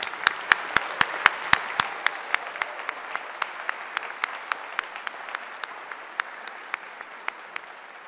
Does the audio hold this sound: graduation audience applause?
yes